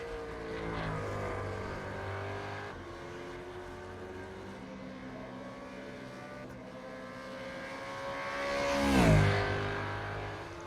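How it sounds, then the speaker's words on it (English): A Supercars racing car engine drones in the pit lane at Watkins Glen in a racing video game, its pitch sliding and building into a louder passing surge near the end. "Sounds like there's a car in pit lane."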